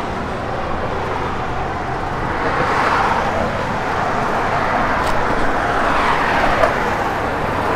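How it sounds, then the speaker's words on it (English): A 1956 Chevrolet Bel Air fitted with an H-pipe Magnaflow dual exhaust gives a steady, broad engine and exhaust rush. It swells a little twice as the car drives. "It's got an H-pipe Magnaflow dual exhaust system on it"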